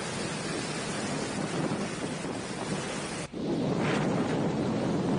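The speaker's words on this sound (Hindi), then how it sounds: "तेज रफ्तार में बहती हवा और हवा का शोर साफ तौर पर आप देख पा रहे हैं" Cyclone Nisarga's wind roars steadily as it makes landfall on the Mumbai coast, a loud broadband rush with a brief dip before it surges again, with no voices.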